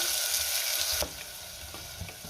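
Onion and curry leaves sauté in hot oil with mustard seeds and cumin, a broad steady sizzle that drops in level after a second and keeps frying with a few light stirring clicks.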